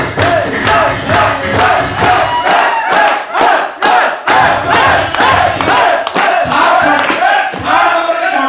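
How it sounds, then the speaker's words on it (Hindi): A crowd at a Hindi-language success training seminar bursts into loud, sustained cheering and shouting with clapping mixed in, dense and continuous for several seconds with rhythmic surges. "तालियां"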